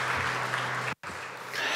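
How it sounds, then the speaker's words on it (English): Applause for panelists at a telecommunications development conference plenary session, a dense hall-wide wash of clapping that drops out for an instant, then resumes at steady volume. "please, if you can give them an applause"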